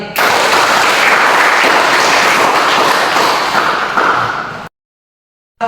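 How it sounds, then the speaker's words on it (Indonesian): Classroom applause from a group of students, a dense steady clapping close by that holds for about four and a half seconds, then cuts to silence before a brief return at the end. "Aplaus dulu untuk kita hari ini."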